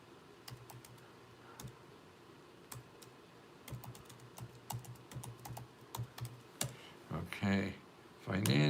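Fingers tap out a zip code on a computer keyboard, a run of quick, light key clicks in an uneven rhythm, close and fairly quiet, with a brief burst of speech near the end.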